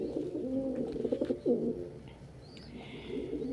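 A house pet pigeon coos close by, with soft low rolling coos in the first half and a rising swoop near the middle, then quieter murmuring under faint room noise.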